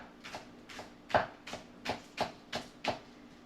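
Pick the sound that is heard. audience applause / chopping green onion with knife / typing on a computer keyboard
chopping green onion with knife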